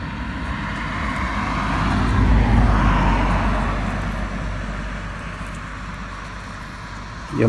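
Cars going by on a road beside an expressway, a steady low rumble of traffic that swells in the middle and eases off, heard from the roadside with no voices.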